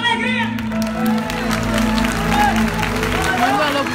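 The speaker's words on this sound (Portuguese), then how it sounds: "Aplauda o Senhor com alegria!" A church congregation at a live worship service claps and cheers together, a loud sustained wash of applause mixed with shouts and a voice ringing over it.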